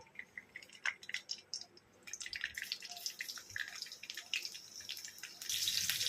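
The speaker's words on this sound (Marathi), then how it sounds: "तर आपलं तेल गरम झाल्यानंतर आपण त्यामध्ये आता मोहरी टाकून घेऊया." Mustard seeds and curry leaves crackle and spit in hot oil, a quiet scatter of pops that grows into a denser sizzle toward the end.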